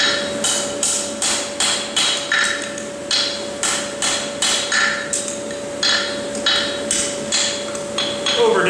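A farrier building a plain-stamped horseshoe hammers the hot shoe on an anvil, producing loud, close, evenly spaced ringing metal strikes in a steady rhythm of about two blows per second, with no voices.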